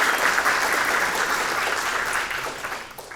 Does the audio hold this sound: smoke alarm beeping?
no